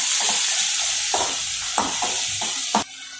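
Tomato with turmeric and ginger being stirred in a hot pan: constant sizzling hiss with several distinct spoon scrapes spaced through the stretch, close and fairly loud, no talk.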